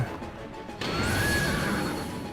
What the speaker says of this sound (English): Oh, here we go. The lightning horse.